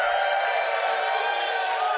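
A live comedy-show audience at the Chicago Improv Festival cheers and whoops loudly in a brief sustained burst of crowd noise.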